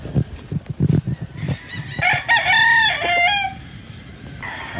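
Chickens cluck and a rooster crows on a poultry farm in the Philippines at feeding time, with a clear loud crow stretching through the middle of the clip over close, busy clucking.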